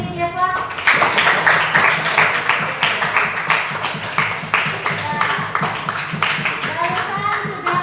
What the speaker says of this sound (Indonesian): Tepuk tangan dulu buat Yasirli Jeva.